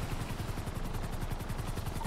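Rapid rhythmic rotor chop of a two-seater helicopter in GTA, a steady, fairly loud low pulsing thrum that continues unbroken throughout.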